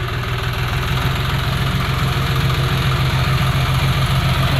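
A tractor engine idles steadily at a farm home, its low diesel chug pulsing evenly and loudly throughout with a faint knocking vibration and no talk.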